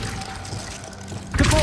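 The Glacius ice spell in Hogwarts Legacy, cast during a fight: a sudden bright icy shattering crack near the end, over ongoing combat noise and a voice.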